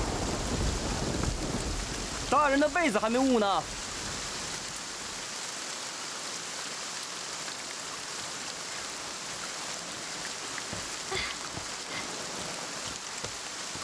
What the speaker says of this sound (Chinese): 下雨呢，